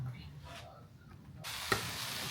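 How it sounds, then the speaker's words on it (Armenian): Food frying in a pan in a home kitchen, a soft steady sizzle that grows into a brighter, fuller hiss partway through, with one sharp utensil clink near the end. No voices. "Էսի մի փոքր թող տապակվի, մի 5-10 րոպե"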